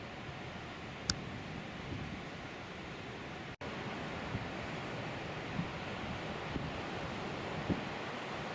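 Ocean waves where a strait meets the open sea off a beach near Saint-Trojan-les-Bains, a continuous broadband wash of surf with wind buffeting the microphone and a brief dropout midway.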